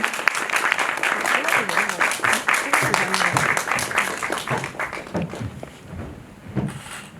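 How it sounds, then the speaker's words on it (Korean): Dense applause from a cinema audience at a film talk event fills the first five seconds, with a voice talking over it, then fades as the clapping dies down. "큰 박수 부탁드리겠습니다."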